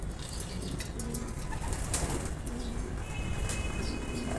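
Female racer pigeons in a loft chamber make soft cooing and wing flutters beneath a constant broadband rushing noise, the birds faint and partly masked.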